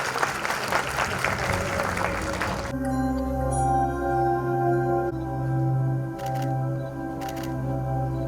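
An audience at a university Quran recitation contest applauds in a brief, dense burst of clapping that stops abruptly, giving way to sustained tonal sound.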